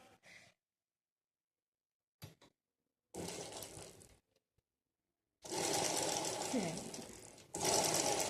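A sewing machine stitches a blouse back neck in short loud bursts, with quiet gaps and soft handling noises between runs.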